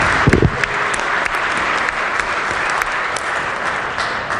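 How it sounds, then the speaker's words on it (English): Steady applause in a West Virginia legislative chamber, a full crowd of hands clapping evenly for several seconds, with a few louder close claps near the start. "Please give them a round of applause"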